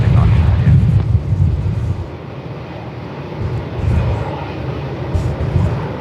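An airplane takes off from runway 34 at Melbourne Airport in 45+ knot winds, its loud roaring engine rumble rising and swelling heavily and continuously, with gusty wind noise throughout.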